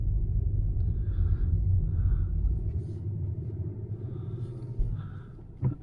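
A Nissan Qashqai+2 diesel engine runs steadily with a deep, even rumble close by, easing slightly partway through, with a couple of brief knocks near the end and no talking.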